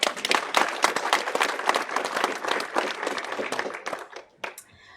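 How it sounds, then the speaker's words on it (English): An audience at a book launch gives a sustained round of applause, dense and steady, then thins out near the end. "I think that is worthy of another round of applause"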